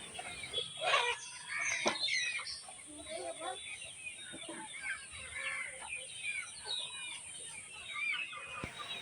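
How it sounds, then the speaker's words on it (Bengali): Sonali chickens on a poultry farm cluck and call in a busy, continuous layer of overlapping bird sounds, fairly faint and steady, with occasional sharper chirps and a few louder bursts. "এই মুহূর্তে আমরা আছি সোনালি মুরগির খামারে"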